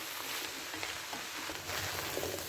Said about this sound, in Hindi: अब मैं इनको अच्छी तरह मिक्स करूँगी